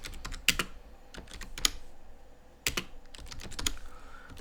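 Someone types the sudo apt dist-upgrade command on a computer keyboard, a quiet run of irregular keystrokes with a few sharper taps and brief pauses.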